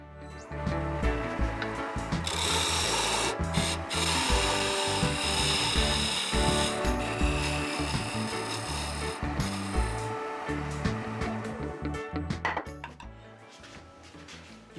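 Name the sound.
removing wood to make a taper on lidded box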